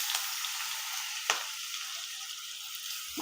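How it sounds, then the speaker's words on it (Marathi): Mustard seeds, cumin, asafoetida and a coarse ground paste sizzle in hot oil during tempering for a ridged gourd chutney, a steady close frying hiss with a couple of sharper crackling pops. "ही पहा मोहरी टाकली, तडतडली याच्यात।"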